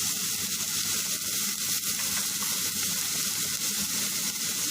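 Chopped onions sautéing in a pan for a meat roll snack, a loud, continuous sizzle and crackle of frying with faint stirring, steady and close, no voices.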